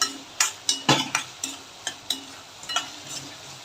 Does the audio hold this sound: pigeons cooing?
no